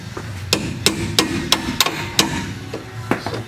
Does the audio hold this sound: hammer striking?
yes